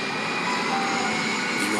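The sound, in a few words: airplane roaring overhead as it prepares to land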